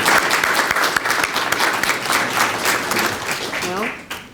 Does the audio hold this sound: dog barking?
no